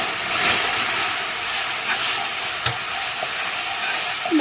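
Sugar syrup bubbling hard in a pan for a plum cake, with a spoonful of water just added, a loud, steady frothy hiss with a couple of faint stirring taps.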